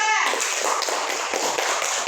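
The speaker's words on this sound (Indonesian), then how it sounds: "beri tepuk tangan ke kelompok 2" A classroom group applauds together, steady dense clapping from many hands filling the clip after a brief opening, fairly close and continuous.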